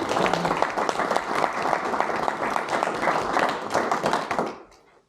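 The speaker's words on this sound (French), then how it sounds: "On peut l'applaudir aussi." Attendees at a municipal council meeting clap together, a lively round of applause from a room of people that holds steady, then tails off quickly into quiet at the end.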